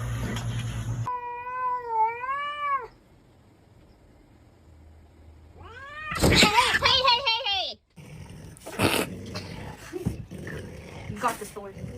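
A small cat gives drawn-out, wavering meows, followed by a burst of yowling and growling from a cat and dog squaring off, with loud scuffling noises.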